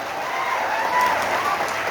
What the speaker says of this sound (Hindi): जसवंत सिंह जी के लिए जोरदार तालियां बजाइए।